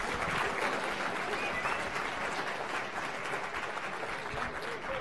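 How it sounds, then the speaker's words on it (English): An audience at a gathering of campus groups applauds, producing steady, even clapping that stays at moderate level and somewhat distant for the whole stretch. "that does deserve a round of applause."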